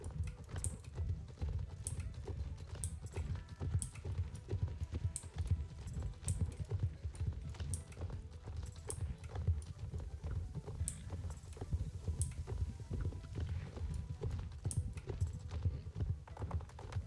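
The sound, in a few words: horse hooves clip-clopping in video game Star Stable Online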